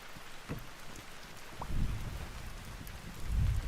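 Steady rain falling in Vintage Story, a constant hiss with low rumbling swells like distant thunder, no voices.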